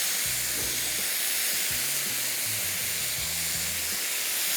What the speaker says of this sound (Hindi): कीमे को थोड़ा सा और फ्राई किया